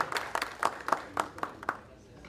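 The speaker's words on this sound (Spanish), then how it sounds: "Fuerte el aplauso entonces, por favor, para el señor Luis Pablo D'Amico." Audience applause for a speaker being introduced at a talk: a burst of hand claps in uneven rhythm, moderately loud and close, thinning out and fading toward the end.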